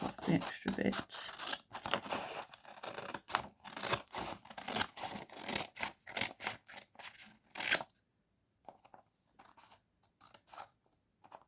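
Scissors snip repeatedly through excess card on a spring-themed folded greeting card, a quick run of close crisp cuts and paper rustles over about eight seconds, then quieter scattered handling sounds.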